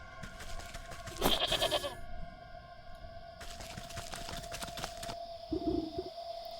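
A goat bleats in the video game Wytchwood, giving a couple of loud, nasal, wavering cries close up, set against a steady tonal game soundtrack.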